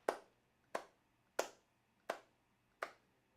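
Five evenly spaced hand claps, sharp and close, marking a slow delay tempo for a guitar pedal, each followed by a short decay over quiet background.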